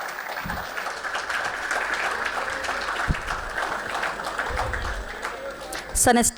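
An audience at an indoor interactive session applauds a visiting international gymnastics coach and referee, steady clapping with scattered voices running throughout, building to a louder burst near the end.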